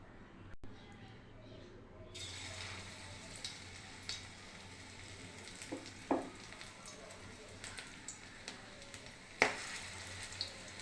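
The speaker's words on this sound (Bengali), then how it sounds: "এবার আমি তেলের মধ্যে ছোট ছোট করে দিয়ে দেব।" Spoonfuls of cabbage pakora batter go into hot oil in a kadai, a soft background sizzle that swells after a few seconds, with scattered small clicks and light pops throughout.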